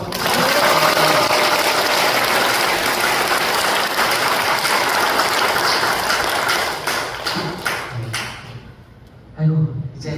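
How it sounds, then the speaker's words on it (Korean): Audience applause for dancers at a church feast-day celebration, a dense, loud clatter of many hands clapping that fades out near the end as a voice begins. "우리 박수 한번."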